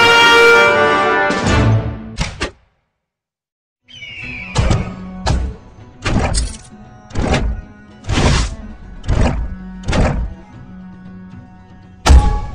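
Cannon fire in the Mega War video game: a series of about eight loud, heavy thunking shots at a steady, measured pace, with a brief silent gap near the start and a final sharp shot at the end.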